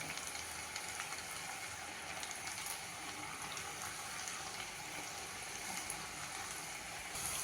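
Sabudana potato sticks deep-frying in hot oil, giving a continuous, even bubbling sizzle that stays fairly faint and steady throughout, with no voices.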